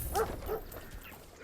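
Two quick barks from a hound in the medieval city-building game Manor Lords, close and clear over a faint background ambience.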